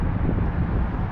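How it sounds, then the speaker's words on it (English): Steady low wind blowing by the water at night, a broad continuous rush and buffet against the microphone with no pauses, loud and close throughout. "It's getting windy."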